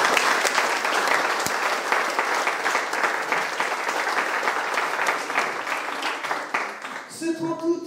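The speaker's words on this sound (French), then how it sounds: "je pense qu'on peut l'applaudir" An audience at a town twinning ceremony applauds the mayor with steady, dense clapping at close range that fades out toward the end as a few tones sound.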